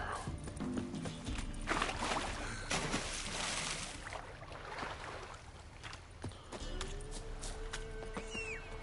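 Horse hooves clip-clopping in The Witcher 3, a steady run of game hoofbeats over ambient in-game noise, with a brief tonal sweep near the end.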